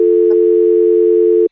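Simulated telephone dial tone from Cisco Packet Tracer IP telephony, a loud steady continuous tone that holds unbroken and then cuts off abruptly.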